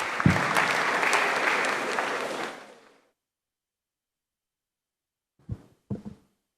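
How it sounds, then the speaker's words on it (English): An audience at a Ghanaian financial literacy event claps for about three seconds to welcome a speaker, and the applause fades out. A few separate claps or knocks follow later. "So with a round of applause, let's please welcome Dr. Jane."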